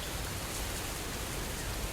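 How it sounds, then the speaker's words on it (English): Steady rain falls in the On The Road truck simulator game, a dense, even hiss of drops drumming on surfaces that holds constant and fairly loud throughout, with no voices. "Nice and rainy."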